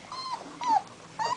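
Small puppies give three short, high whimpers in quick succession, close by and fairly faint.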